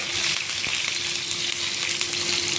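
Curry leaves and a couple of dried red chillies frying in hot oil for a green pea curry, a bright, dense crackling sizzle held close and steady with a faint tap.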